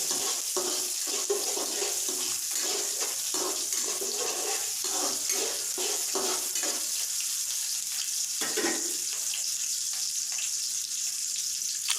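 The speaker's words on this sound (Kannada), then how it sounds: "ಕರಿಬೇವು, ಚಕ್ಕೆ, ಲವಂಗ, ಏಲಕ್ಕಿ ಫ್ರೈ ಮಾಡಿ ಬ್ರೌನ್ ಕಲರ್ ಬರೋವರೆಗೂ ಫ್ರೈ ಮಾಡ್ಕೊಳ್ಳಿ." Curry leaves, cinnamon, cloves and cardamom fry in oil for paneer butter masala, sizzling and crackling with a run of quick bursts, then settling to a steadier hiss.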